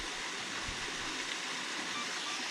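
A waterfall flowing steadily at a landscape photography spot, heard as a continuous broadband rush of falling water, fairly faint and even throughout with no talking.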